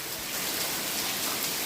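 Heavy, steady downpour of monsoon rain beside a dam, a dense continuous hiss of drops close by with no voices, holding an even loudness throughout.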